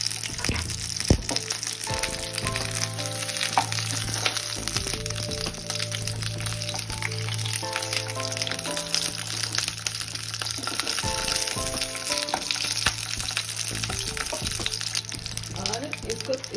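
Stuffed capsicum (bharwa shimla mirch) frying in a covered pan over a low flame, giving a steady close sizzle throughout with occasional stirring clatter, while a tonal musical bed runs underneath.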